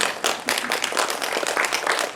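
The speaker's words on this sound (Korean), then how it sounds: "저희 감독님과 게스트 세 분께 박수 한번 부탁드리겠습니다" Audience applause at a press conference after a film preview screening, a steady wash of many hands clapping together, moderately loud and sustained with no voices over it.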